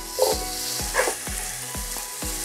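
Tomatoes fry in a pan for Kerala-style pork vindaloo, giving a steady close sizzle punctuated by several sharp scraping stir strokes at a regular pace.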